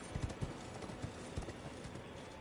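Horse hooves clip-clopping in Elden Ring as the player rides a mount, an irregular series of soft thuds over a steady game ambience, with faint talk underneath.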